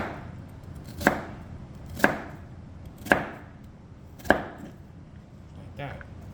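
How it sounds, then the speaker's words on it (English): A knife chopping onions on a cutting board for fried smothered liver and onions, five crisp evenly spaced chops about a second apart, the last one softer. "It's varies because I'm just simply chopping."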